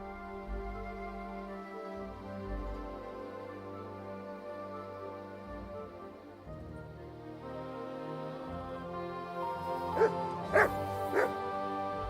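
A dog in the medieval role-playing game Kingdom Come: Deliverance II yips and whimpers over a steady musical background, with a few sharp barks near the end.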